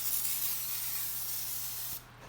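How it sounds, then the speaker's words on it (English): Olive oil cooking spray hisses in one continuous, steady burst onto enchiladas for about two seconds, close and fairly soft, then cuts off abruptly. "We're going to spray some of this olive oil spray on there."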